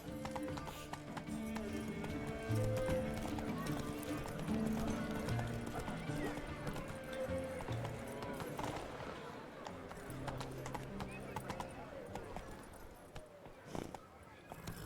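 Horse hooves clip-clop at a gallop in The Witcher 3 during the Blood and Wine expansion, a steady rhythmic beat beneath game music and a voice talking.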